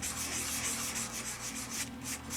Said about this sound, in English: when I'm sanding, you can kind of see where that is